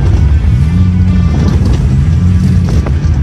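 A 2004 Toyota Avalon XLS drifts on dirt with traction control engaged. A loud, close engine drone rises and falls in pitch under wind buffeting, with scraping grit and tire noise toward the end.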